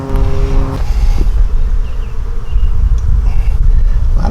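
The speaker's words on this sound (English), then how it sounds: "A lot of bees in here." A dense, loud drone of honey bees buzzing fills an open package hive during a frame inspection, continuous and close, with faint handling noises underneath.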